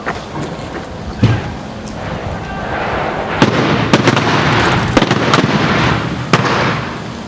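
Fireworks set on a police-style toy car burst outdoors in a quick string of sharp separate bangs and crackles, one after another, layered over a rushing hiss of burning.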